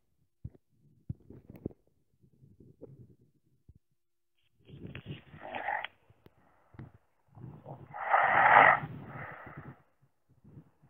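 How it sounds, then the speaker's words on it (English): A young woman's snoring plays as a sound effect: irregular breathy snorts and wheezy inhales separated by silences, building to a louder, rougher snore near the end. "This is young woman snoring."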